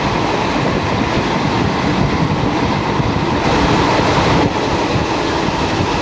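A Guruvayur–Thiruvananthapuram Intercity Express train passing close by, a loud, steady rolling rumble with dense wheel and carriage noise that holds throughout, no voices.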